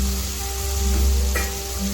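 A mustard and green chili paste sizzles loudly in a pan of frying fish gravy, with a steady dense hiss and a brief stirring scrape partway through, close up.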